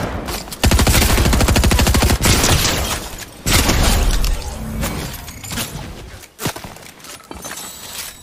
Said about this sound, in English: Somebody else is certainly shooting at me.